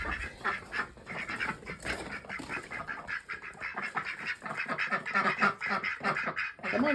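Several ducks at a snowy poultry yard during feeding chores quack in overlapping bursts, fairly close and moderately loud, a busy chatter running throughout with no talk over it.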